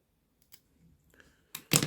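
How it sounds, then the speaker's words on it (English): A few soft clicks are followed by two sharp, close snips of shears cutting through a herb stem during pruning, with nothing else heard. "let me see if I can just snip that right here"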